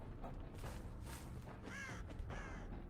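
Crows caw repeatedly in the horror multiplayer game Dead by Daylight, several harsh calls in close succession over a steady game ambience, with no talking.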